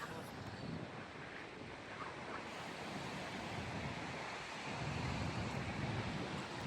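Moving water with waves washing steadily, a broad continuous rush that swells slightly toward the end, mixed with wind buffeting the microphone.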